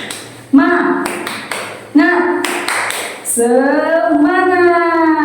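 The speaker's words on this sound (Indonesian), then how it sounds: "coba tepuk semangat dulu ya" A primary school class does a rhythmic spirit clap in a classroom, with children's voices chanting along, the group's sharp claps and voices coming in bursts and swelling into loud sustained chanting.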